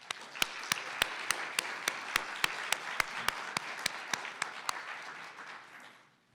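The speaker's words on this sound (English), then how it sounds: "Let's give them another round of applause." An audience claps for drummers at a human rights awards ceremony in a Halifax library hall. Sharp, evenly spaced claps ring out over a steady wash of applause, then fade at the end.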